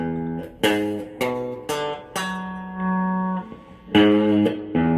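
An electric guitar plays the next phrase of the solo, crisp picked notes in quick succession, a longer sustained bent note in the middle, then more punchy attacks, loud and close with no voice.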